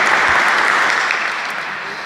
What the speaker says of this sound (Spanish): un aplauso para el padre